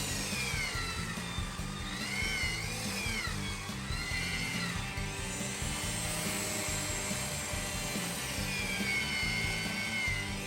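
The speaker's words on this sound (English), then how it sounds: "Finally, I pulled out the belt sander to smooth the components together at the stem and at each of the frames." Belt sander smoothing wooden stem and frame components on a boat build, a continuous loud whirring grind with shifting pitch that rises and falls as the sander moves, no talk.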